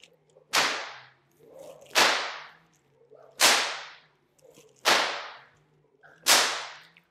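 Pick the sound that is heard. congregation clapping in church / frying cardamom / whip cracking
whip cracking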